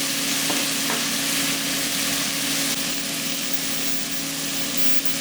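Tomato paste sizzles and fries on the bottom of a pot for lamb shanks braised in red wine, a steady close hiss with a faint hum underneath and no talking.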